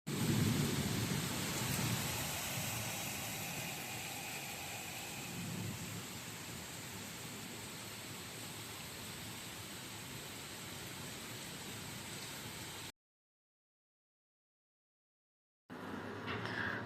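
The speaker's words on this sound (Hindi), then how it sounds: "बारिश" Steady rain falls with a deep roll of thunder near the start, a broad, continuous wash of noise that cuts out briefly near the end before resuming.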